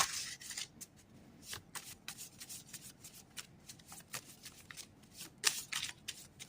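Tarot cards shuffled by hand, a steady run of soft riffling and sliding bursts at close range with a sharper snap near the end, no talking over it.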